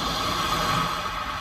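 Calm sea nature soundscape played through the sound system of a 2021 Hyundai Tucson, a steady broadband wash like gentle surf at a moderate level, with no talk.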